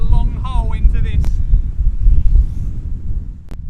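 Strong wind roars across the microphone on a golf course at Sun City Country Club, a loud continuous low rumble, with a voice talking briefly at the start.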